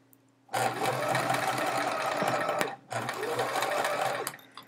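A sewing machine runs in two steady bursts while stitching chevron quilt pieces together, close and fairly loud, with a short pause between runs and quiet before the first.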